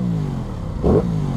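An Aprilia Tuono 660 motorcycle engine idles, then gives a short, sharp rev that rises and falls, with a second blip starting at the end, loud and close.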